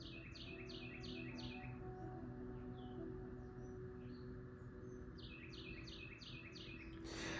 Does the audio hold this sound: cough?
no